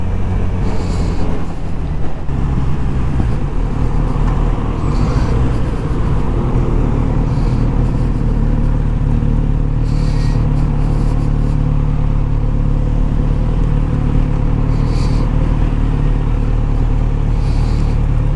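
A Kawasaki Z900RS motorcycle rides through town traffic while filtering between cars, giving a steady, loud engine drone with wind rush and the hum of nearby vehicles.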